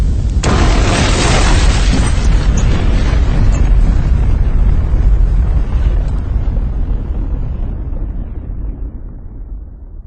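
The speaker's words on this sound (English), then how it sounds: "The plaza with its lines of gas pumps exploded from underneath" A row of gas station pumps explodes from underneath in a continuous roaring blast that rumbles loudly for several seconds, then slowly fades into a low tail.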